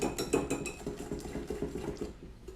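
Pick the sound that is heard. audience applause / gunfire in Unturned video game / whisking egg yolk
whisking egg yolk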